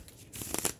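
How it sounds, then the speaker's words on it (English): A thick deck of tarot cards on heavy cardstock is shuffled briefly, a soft riffling flutter that builds into a few quick crisp snaps, close and quiet. "I have to break it into like two decks and then shuffle"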